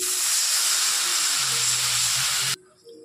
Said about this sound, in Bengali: দিয়ে দেবো পরিমাণ মতন জল, যতটুকু জল আমার দরকার।